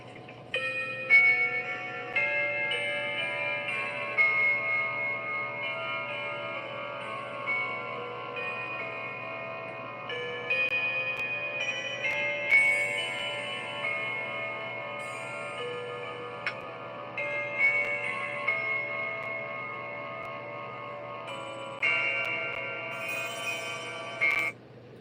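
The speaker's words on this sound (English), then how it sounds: "That clock has those chime rods have a nice sound." A clock strikes on chime rods with ringing, sustained metallic tones that swell and repeat over a long steady stretch, each stroke bright and resonant, heard clearly with no talking.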